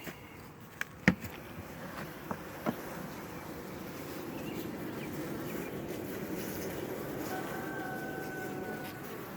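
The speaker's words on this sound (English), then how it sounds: "But this is a pretty good bunch of bees too." Honey bees buzzing around the outside of a hive as a steady, dense drone, with a few sharp clicks and knocks near the start.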